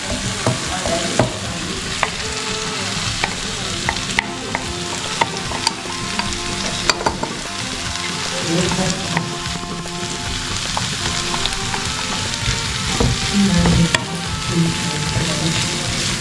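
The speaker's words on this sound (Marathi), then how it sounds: "कांदा आणि टॅमॅटो पूर्ण शिजलेला आहे त्याच्यावर आपण जो आता बोंगलाचा जो क्रश केला होता आपण जी पावडर केलेली आहे तो आपण आता याच्यावर टाकणार आहोत" Onion and tomato frying with crushed dried bombil powder, a steady close crackling sizzle with constant stirring scrapes throughout, loud and continuous with no talking.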